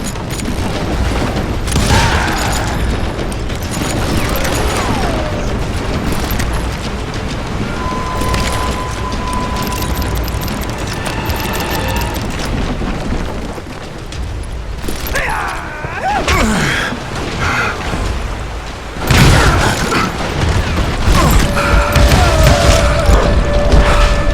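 Gunfire and explosions in the Western shooter Call of Juarez Gunslinger: booming blasts and crackling shots roll continuously under a dense, noisy battle din, with a heavier burst near the end.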